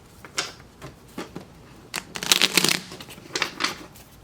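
Tarot cards shuffled by hand for a pick-a-card reading, a run of soft riffling bursts and shuffles that peak into a denser flurry midway, close and moderately quiet with no talk.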